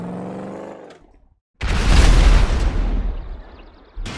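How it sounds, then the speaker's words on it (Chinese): A loud, close explosion in a GTA 5 zombie mod game erupts after a brief silence, a broad rumbling burst that sustains for about two seconds and slowly decays, following a stretch of lower engine-like noise. "为什么上面爆炸"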